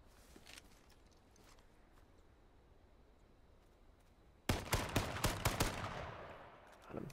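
Gunfire in a first-person shooter video game: after several seconds of quiet ambience, a sudden loud burst of about five rapid shots rings out and then tails off.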